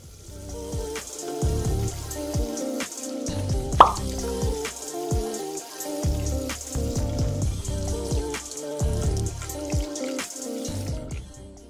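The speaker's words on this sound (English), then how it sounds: "But first, let's wash these hands." Hands being washed under running water at a sink during a skincare routine, with steady water flow, irregular plopping and dripping splashes, and hands rubbing throughout, fairly close and clear with no talking.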